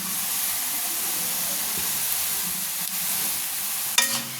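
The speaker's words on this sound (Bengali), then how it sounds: "দিয়ে আবারও ভালো করে নেড়ে নিচ্ছি।" Onions and slit green chillies stirred in a hot pan while preparing a hatchery chicken curry, a steady frying sizzle with soft scraping throughout and a sharper clink of the utensil near the end.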